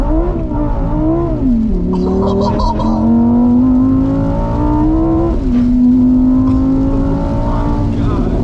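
A Lamborghini Huracan Evo supercar with about 600 horsepower revs its engine close up, a steady loud drone rising and falling through gear changes, with people talking faintly underneath.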